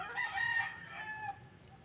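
A young brooding hen gives a few soft, faint clucks close by, in short uneven calls with no talking.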